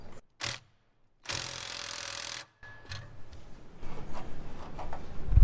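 A nut being tightened on a planter, with short ratchet clicks and mechanical ticking in separate bursts, a longer ratcheting run in the middle, then quieter rattling handling noises, close and without speech.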